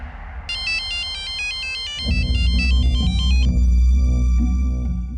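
A bright electronic phone ringtone plays a repeating melodic pattern, then a deep rumbling hum rises beneath it as the tune fades.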